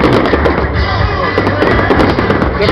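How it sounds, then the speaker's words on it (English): 2023 Independence Day fireworks exploding in a dense, continuous barrage of loud booms and crackles, with a faint crowd underneath. "The fireworks."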